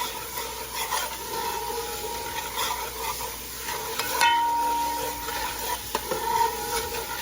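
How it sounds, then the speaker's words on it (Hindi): Vegetables stir-frying in hot oil with garlic for a restaurant-style Chicken Manchurian, a continuous sizzle with stirring scrapes and a brief ringing clink of the pan midway. "लहसुन को थोड़ी देर पकाने के बाद इसकी खुशबू आ जाए तो हम डाल देंगे वेजिटेबल"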